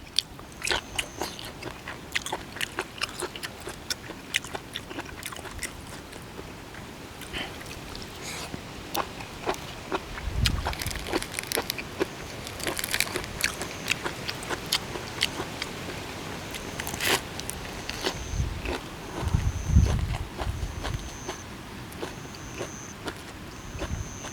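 Close, crisp crunching bites and chewing of a spicy Thai squid tendon salad, irregular snappy crunches scattered throughout with occasional louder bites and quiet gaps between.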